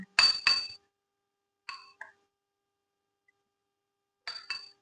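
A spoon clinks against a glass or bowl while custard powder is mixed into warm milk: a quick double clink, two lighter taps a second later, then another pair of clinks after a long quiet gap.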